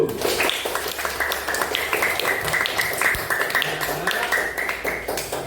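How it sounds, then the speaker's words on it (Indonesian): A classroom of students claps for a classmate's answer, a close, loose patter of individual hand claps with uneven rhythm, a voice briefly audible alongside it. "Iya, silakan tepuk tangan dulu."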